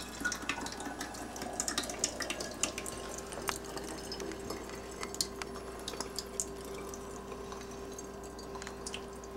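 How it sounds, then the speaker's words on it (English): Thick kefir pours through a plastic funnel into a jar, making soft, steady trickling and dripping with small irregular splashes, faint and close, with no talk. "Kefir doesn't pour so easily back into a jar, so I'll take a funnel, plastic funnel,"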